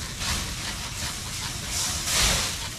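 Red wine vinegar and beer hit smoked tri-tip on a grill with a steady, broad hiss and sizzle that swells near the end, with no clear talking.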